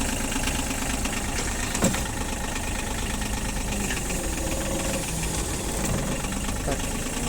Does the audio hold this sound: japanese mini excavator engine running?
yes